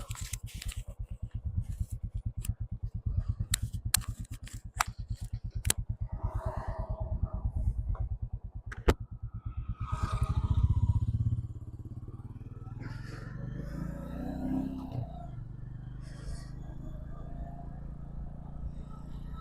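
A Royal Enfield Classic 350 single-cylinder motorcycle engine thumps steadily at idle with a rapid, even beat, then revs briefly before settling back to a low rumble, heard up close.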